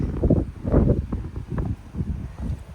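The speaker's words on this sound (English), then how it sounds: "I'm trying to show you guys this flower, but it's very windy." Low, gusty wind buffets a nearby microphone in uneven bursts, rising and falling over a few seconds, on a mountain trail.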